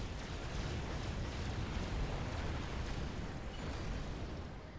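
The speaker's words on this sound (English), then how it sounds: "I just love to see all of these explosions, all of these wrecks" Continuous rumbling blasts and booms from Supreme Commander Forged Alliance battle explosions, a dense, steady wall of detonations with no talk over it.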